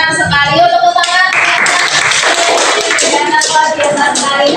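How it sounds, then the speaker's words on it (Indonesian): A group of people clapping hands in a classroom-style setting, energetic and close, with irregular claps over mixed voices and some tonal sound early on. "Tepuk tangan."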